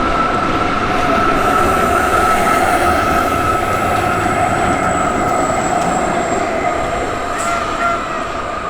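A tram running on the line toward Alicante gives a loud, steady rolling rumble with a sustained wheel hum and faint high squeal throughout, no voices.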